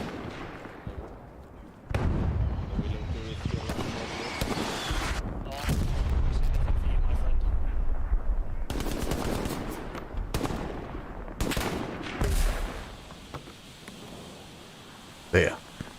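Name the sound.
machine gun fire in the video game Hell Let Loose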